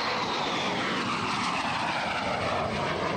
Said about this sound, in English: There goes Randy tucking the feet up on that D-33